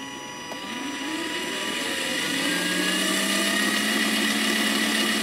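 A 6-volt electric motor on a kids' ride-on car, fed through a buck converter limited to 7.2 volts, spins up under the accelerator, its whine rising in pitch and loudness over a few seconds, then holding steady at full power.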